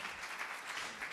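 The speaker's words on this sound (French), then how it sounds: "Bravo, vous pouvez les applaudir," Audience applause at the PitchAqui 2014 trophy ceremony for award recipients, a steady wash of many hands clapping, moderately distant and fairly quiet throughout the short stretch.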